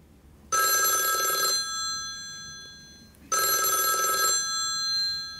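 HTC HD2 phone ringer ringing in two loud, bright electronic bursts separated by a pause, each about a second long with a lingering tail, close and without talk.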